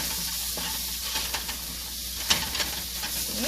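Boiled potatoes fry in a pan while poha is cooked, giving a steady close sizzle with occasional stirring scrapes and one sharper clink partway through, no voices.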